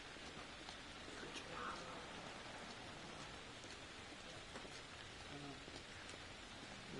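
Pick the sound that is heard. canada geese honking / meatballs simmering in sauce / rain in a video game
rain in a video game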